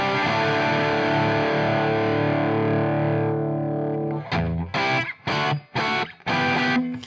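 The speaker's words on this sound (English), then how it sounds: "So it's almost like a distortion pedal, right?" Electric guitar run through Arturia FX Collection saturation for a distortion-style drive: a long, thick, buzzing sustained chord that slowly fades, followed by several chopped, rhythmic strummed stabs.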